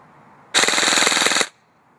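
A custom-built airsoft ACR rifle powered by an 11.1 volt battery fires a single loud full-auto burst of about one second, a rapid buzzing stream of shots with no talking.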